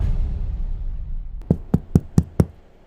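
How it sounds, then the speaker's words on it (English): Five firm knocks on a door in an even, moderately quick sequence, close and loud over a low rumbling background hum. "Another knock followed, louder this time."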